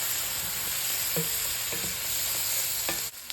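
Squash sizzling and frying in a pan, a steady close hiss with a few soft stirring clicks, ending with a brief knock.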